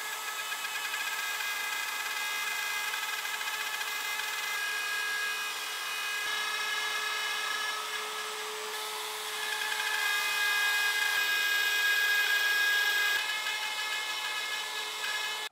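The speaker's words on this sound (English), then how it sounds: "I need to next make the grooves in the posts to receive the panels, and I'm going to do that using my plunge router and a 1/4-inch spiral bit." A plunge router fitted with a 1/4-inch spiral bit cuts grooves into wooden posts, giving a steady high-pitched whine that holds for the whole stretch with slight swells in loudness and no talking.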